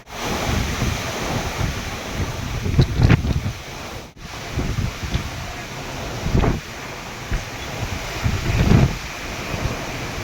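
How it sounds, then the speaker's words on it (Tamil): Strong wind buffets a sailing ship's deck at sea, a steady roaring gust with mic buffeting and surging swells of ocean water that rise and fall close by throughout. "காற்று எவ்வளோ தான் அடிக்குதுன்னு பார்த்தீங்களா காற்று இவ்வளோ ஃபோர்ஸாக தான் அடிக்கும்"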